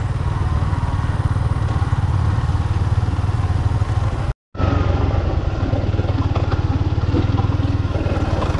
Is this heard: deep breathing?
no